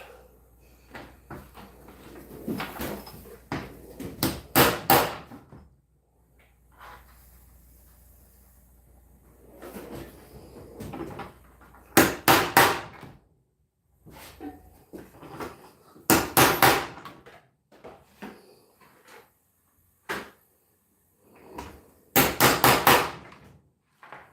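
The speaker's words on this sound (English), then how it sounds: "we're going to try to mark these corners and punch these corners out first" Corners are punched out of a metal piece with a hand hammer in a workshop: several groups of sharp, loud ringing blows in quick bursts, separated by quieter handling and shuffling.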